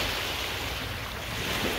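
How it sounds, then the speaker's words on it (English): Ocean waves wash in at a beach at night as a steady, loud roar of surf and wind rush, with no breaks and no voices. "Ayan, nandito kami sa beach."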